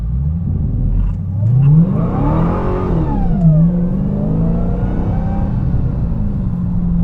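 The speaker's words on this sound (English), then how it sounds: "I would actually just prefer mashing the throttle and that's it." A 2023 Dodge Challenger Hellcat Jailbreak V8 revs and accelerates hard, its loud close engine note rising through gears with pitch climbing, dropping at a shift, then climbing again.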